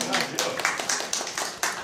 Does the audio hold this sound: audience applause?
yes